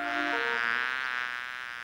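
Steady insect-like buzzing from a cartoon character imitating a bee, a continuous droning hum that holds for about two seconds, fairly loud and alone without speech.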